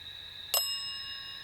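A small bell rung once during a nighttime ghost hunt: a single bright ding that rings on and slowly fades, heard alone against a quiet background.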